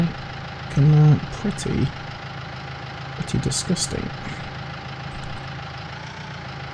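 A farm tractor engine in Farming Simulator 19 idles with a steady low hum throughout, under a man's brief spoken remark and a few clunks.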